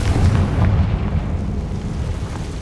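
A Confringo spell blast from Hogwarts Legacy, a deep rumbling boom that is loudest at the start and then rolls off into a low, fading roar with no voices over it.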